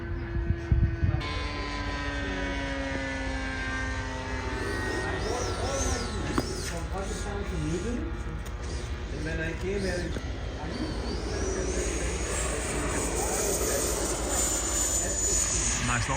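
An RC model F4U Corsair airplane flies at a model aircraft club, its small engine buzzing and whining as it passes and shifts pitch overhead, with birds and people talking in the background.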